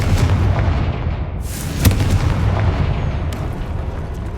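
Confringo fire spell explosion in the video game Hogwarts Legacy: a dense, continuous roaring blast with rumbling booms and one brief sharper burst midway, loud throughout.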